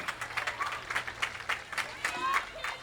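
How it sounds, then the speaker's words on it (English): A crowd at an Independence Day parade claps in scattered, crackly bursts for a varsity dance team, with a voice on a loudspeaker running over the applause. "Big round of applause for the Ralston Varsity Dance Team today"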